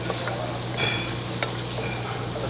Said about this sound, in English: I just keep stirring all the time.